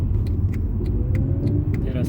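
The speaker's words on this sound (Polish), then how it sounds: "Teraz jadę się przejechać, zobaczymy jakie jest doładowanie" A car with a Mercedes M271 supercharged engine drives off after a supercharger pulley replacement, its low engine rumble steady and close, with light periodic clicks on top.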